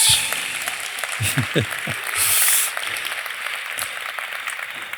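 A keynote audience at an IT industry forum breaks into broadband clapping that rises and falls for several seconds. A voice speaks over the applause.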